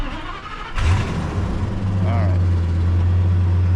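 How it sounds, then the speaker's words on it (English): A Ford Super Duty truck under repair cranks briefly and fires up, then settles into a loud, steady idle heard up close. "We successfully got the truck to run and start"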